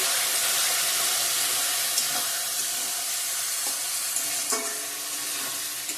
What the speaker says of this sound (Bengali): ধনিয়ার গুঁড়া জিরার গুঁড়া দিয়ে দিলাম সব মশলা একটু কষিয়ে নেবো ভালো করে